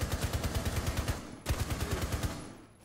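Automatic gunfire in a video game, with two fast, even strings of rapid shots separated by a brief pause, moderately quiet and fading out at the end.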